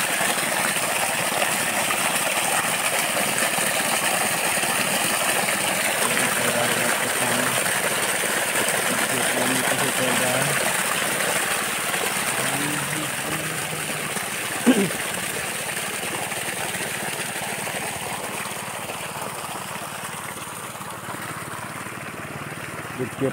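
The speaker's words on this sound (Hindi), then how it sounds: "देखिए पाइप द्वारा पानी इधर से आ रहा है मशीन से।" An irrigation pump engine runs steadily with a constant drone while water flows through a pipe into a rice paddy in a village, with a faint voice and outdoor sounds over it.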